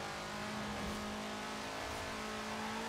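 Rasping car engine held at steady revs in Forza Horizon 4, a loud, close, continuous buzzing drone with slight pitch wobble, heard alone without voices.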